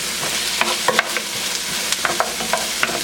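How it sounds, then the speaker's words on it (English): Aromatics and onions sizzle in a pan over medium-high heat, a constant crackling fry with sharp stirring clicks and taps scattered through it, close and loud, with no voices. "we're going to throw our aromatics in here and let those start to sweat"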